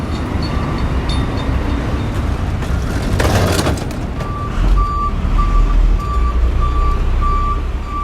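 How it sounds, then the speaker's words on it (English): Busy New York City street traffic, with trucks rumbling close by and a vehicle's reversing beeps repeating steadily in the second half, over continuous loud road noise and a brief louder passing swell. "He just walked right past me to look out the window at the busy NYC street."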